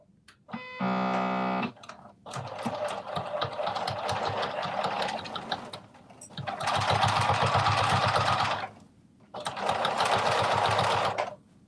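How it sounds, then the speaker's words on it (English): A sewing machine runs a narrow stitch along the bottom of a garment in several bursts, with a brief higher-pitched whir at first, then three longer, loud runs of rapid stitching separated by short pauses. "I'm doing a narrow stitch right at the bottom of this again"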